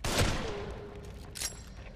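Sniper rifle fire in the horror video game The Evil Within: one sharp loud shot at the start with a ringing tail, followed by a second fainter crack about a second later.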